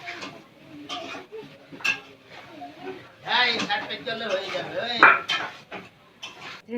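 Onion, ginger and garlic being chopped for meat in a home kitchen, with a run of knife and utensil knocks against dishes under steady, nearby talk.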